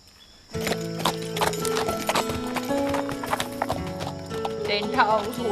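Horse hooves clip-clopping steadily throughout with a brief whinny near the end, mixed with busy film soundtrack and voices talking.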